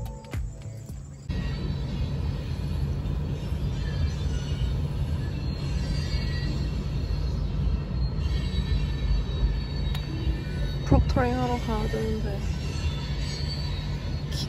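Freight train rolling past a level crossing heard from inside a stopped car, a steady low rumble with squealing wheels and a brief horn-like tone near the end; a voice speaks briefly.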